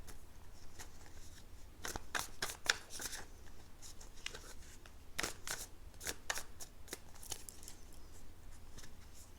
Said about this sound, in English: I'm going to give them another little shuffle for you.